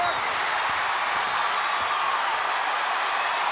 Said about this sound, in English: this capacity crowd is going nuts